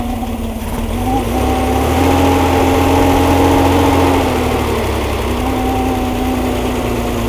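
A small 140 engine from a basket-case restoration runs steadily after its test fire, a loud, close, even idle hum with a slight rise in pitch partway through.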